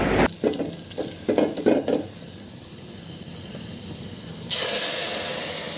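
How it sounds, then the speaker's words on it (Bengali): Boiled black gram dal poured into hot oil tempered with panch phoron spice gives a few crackling sizzle bursts, then a loud, steady frying hiss after a quiet stretch. "যখন পাঁচফোড়নের ঘ্রানটা ছড়িয়ে যাবে তখন আমি এখানে দিয়ে দিচ্ছি সেই সিদ্ধ করে রাখা ডালটি"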